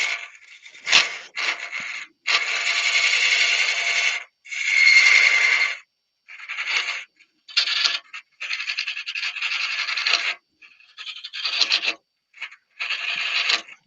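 Mushroom rubbish being scraped out in repeated rough rasping strokes, each burst lasting a second or two with short pauses between, close and fairly loud, no talk.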